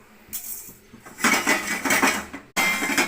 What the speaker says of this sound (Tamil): வெந்தயம் லைட்டாக பொரியட்டும்